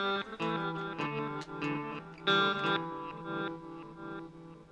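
A short arpeggio of clear sustained notes played through a reverse delay effect, each phrase swelling and layering on itself with lingering trails, quiet and alone.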